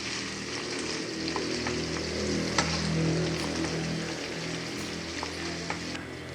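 Shrimp heads and shells fry in cooking oil with a steady, close, dense sizzle and crackle, occasional stirring taps on the pan, and no talk.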